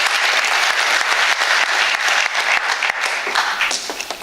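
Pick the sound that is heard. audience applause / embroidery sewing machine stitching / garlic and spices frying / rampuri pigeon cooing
audience applause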